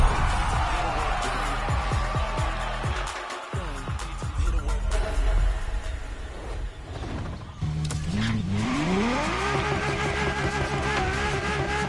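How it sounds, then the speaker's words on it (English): Car racing along Maui roads in the video game The Crew Motorfest, engine revving and shifting through gears with a sustained loud drone, brief tire skids and a sharp dip near the middle before the engine climbs again. "wonderful to see this car taking over the roads of Maui."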